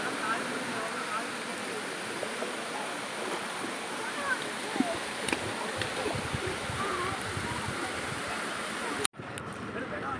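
The Thusharagiri waterfall in Kerala, the third of its falls, gives a steady, dense rushing roar that continues unbroken, with a brief cut near the end.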